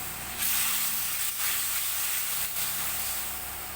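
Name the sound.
masala frying in a pan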